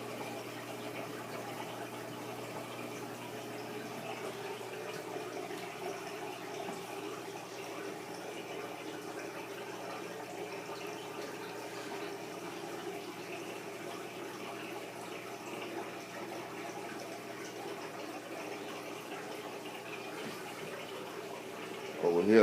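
A small sump pump runs on a 150 gallon fish tank, pouring water in a constant gentle trickle and splash with a low mechanical hum, steady throughout.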